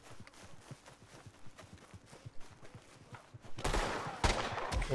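Gunfire in the video game Red Dead Redemption 2, a burst of loud, rapid shots erupting near the end after a stretch of steady hoofbeat-like clopping, with no talk over it.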